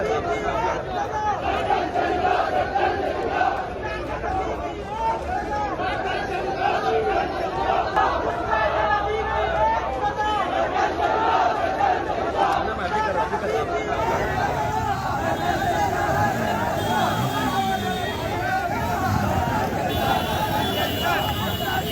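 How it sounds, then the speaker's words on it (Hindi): A large, angry protest crowd in Hyderabad chants slogans in unison, a loud, dense roar of many voices rising and falling continuously from up close. "उस उग्र प्रदर्शन करने वाली इस भीड़ ने सरतन से जुदा के नारे भी लगाए"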